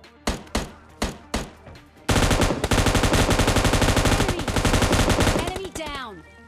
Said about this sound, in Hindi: इसको M249 की शायद से 50 गोलियां मारी होगी।